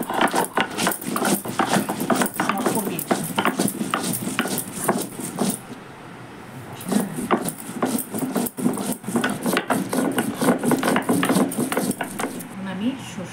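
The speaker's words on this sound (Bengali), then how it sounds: "এখন আমি শুকনো লঙ্কা বাটছি মাছের জন্য।" Dried red chillies are crushed on a grinding stone for fish curry, a gritty scraping rub repeated in steady back-and-forth strokes, close and fairly loud, with a brief pause midway before the rhythm resumes.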